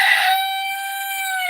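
A rooster crows once, loud and close, its drawn-out call falling off smoothly at the end with no voices over it.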